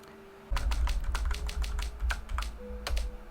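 Rapid, uneven typing on a computer keyboard, close and fairly loud, with irregular clusters of key clicks over a low steady hum and no talking.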